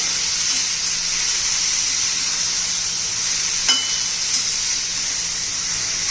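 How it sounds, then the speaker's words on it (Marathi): Vegetables sauté in hot oil for veg biryani, a loud continuous hissing sizzle close up, broken only by a brief utensil tap or two. "अशा भाज्या घालून घ्यायच्या आणि चांगल्या परतून घ्यायच्या"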